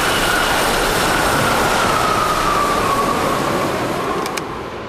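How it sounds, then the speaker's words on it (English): A train runs on a test range, making a loud, steady broadband rumble with a faint whining tone that gently falls in pitch and eases slightly toward the end. "It's hard to stop a train."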